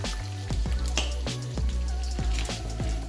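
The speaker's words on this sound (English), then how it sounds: "we're gonna start sauteing our spices" Spices sautéing in a pan with very little oil, a steady close sizzle with repeated clinks and scrapes of stirring, alone with no talk.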